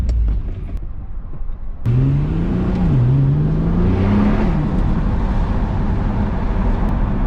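A standard-engined Nissan GT-R driving on the road, its engine droning steadily and close with a rising and falling pitch as it pulls under load, with road and wind noise underneath and no talking.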